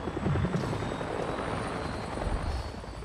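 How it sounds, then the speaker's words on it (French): A helicopter in the video game Avatar: Frontiers of Pandora gives off a loud, steady rotor chop and engine drone that fills the whole stretch without letup. "Oh putain y'a un hélico."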